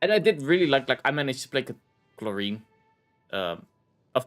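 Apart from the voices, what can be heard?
None of the usual background noises is heard.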